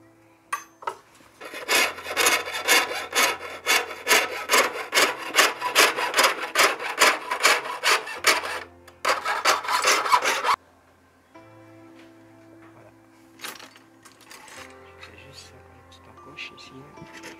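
A jeweler saws through metal by hand to cut out a piece, rapid rhythmic rasping strokes in two bursts, then quieter intermittent scraping and taps near the end.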